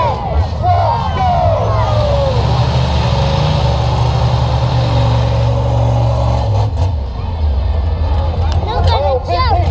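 The Big Pete monster truck's engine roars and revs loudly at an arena show, a sustained heavy drone rising and falling, with an announcer talking and crowd noise over it.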